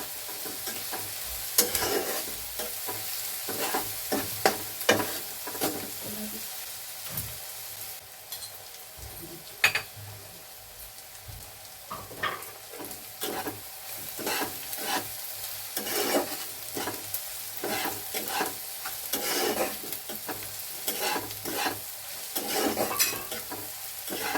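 Soya chunk keema being stirred and fried in hot oil, with repeated scraping strokes of a spoon against the pan over a steady sizzle, close and continuous throughout with no talking.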